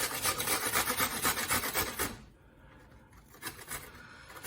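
A cucumber is scraped against an old box grater in quick, rhythmic, rasping strokes, close and clear for about two seconds, then fading to softer, scattered scrapes.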